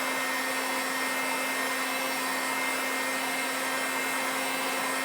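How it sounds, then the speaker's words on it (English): A heat gun runs on its hot setting, blowing a steady, loud, even whoosh of air with a constant motor hum throughout, close by and uninterrupted, with no voices. "So, heat gun set to hot."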